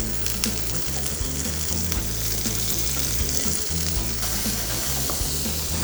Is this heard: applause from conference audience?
no